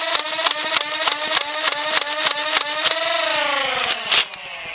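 A motorized BoomCo Spinsanity 3X foam-dart blaster revs up, its motor whine climbing in pitch under a quick run of sharp, rhythmic clacks that ends in a louder burst.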